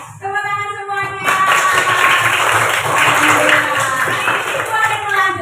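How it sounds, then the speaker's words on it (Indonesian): Classroom applause as schoolchildren and teachers clap together after a cheer, a dense burst of hand claps rising at about one second and holding steady, with voices mixed in beneath. "Tepuk tangan semuanya"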